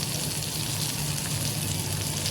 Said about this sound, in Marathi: आता तेल टाकतो. चार चमचे तेल टाकतो.